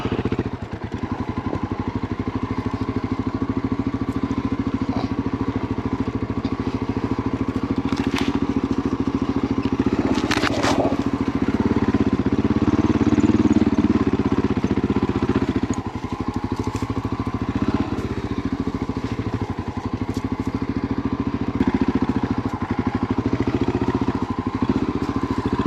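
A motorcycle with a heavy flywheel labors up a steep ravine trail, its engine droning steadily and loudly at low revs for the whole stretch, with occasional clatter and thumps from rough ground.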